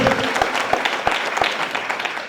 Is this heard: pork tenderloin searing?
no